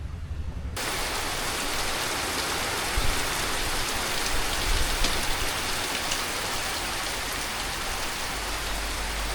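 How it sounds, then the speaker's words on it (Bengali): Steady rain falls in a continuous, even hiss that fills the whole stretch at close range, with no voices. "আসলে এভাবে বৃষ্টি উপভোগ করতে কিন্তু বেশ ভালোই লাগে"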